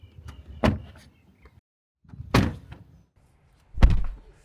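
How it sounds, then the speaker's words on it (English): Three solid Tesla car door thunks, evenly spaced about two seconds apart, each a close, muffled slam with a brief rustle before it. "just from shutting the doors, for example"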